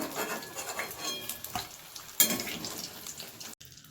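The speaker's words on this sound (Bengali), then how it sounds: "এইভাবেই আস্তে আস্তে সব কটা ভেজে নেব" Lote fish coated in gram flour crackles and sizzles in hot oil nearby, with a sharp metallic clatter of a utensil partway through.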